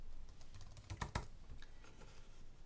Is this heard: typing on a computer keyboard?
yes